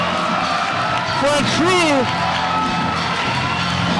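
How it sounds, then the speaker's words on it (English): Crowd noise at a Pro Wrestling Unplugged event, a steady roar of fans with rising whoops and shouts under an announcer talking. "Listen to this crowd"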